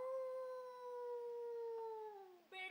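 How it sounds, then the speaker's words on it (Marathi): Dogs howling at night, one long sustained mournful howl that slowly falls in pitch, then a short whimpering cry at the end, faint and distant. "कुत्र्यांच्या विव्हळण्याचा आवाज येतोय."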